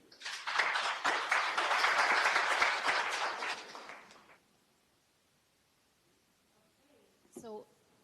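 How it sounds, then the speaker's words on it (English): An audience at a green trade and digital innovation summit breaks into steady applause for about four seconds, then it fades to near silence before a brief voice is heard. "We may clap hands for him"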